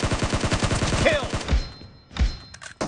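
Automatic weapon fire in PUBG: a fast burst of evenly spaced shots close by, followed by a couple of heavier separate bangs, with a voice briefly heard.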